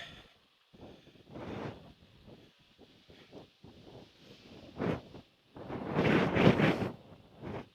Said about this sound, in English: That wind is brutal.